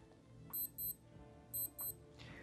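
A small electronic alarm beeps in quick pairs, two double-beeps about a second apart, high and thin against a quiet background.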